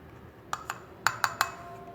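A spoon stirring alcohol and aloe vera gel in a glass container, giving five light ringing clinks in two quick groups, close and otherwise quiet.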